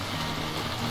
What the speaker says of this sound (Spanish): Puede haber un poco de lluvia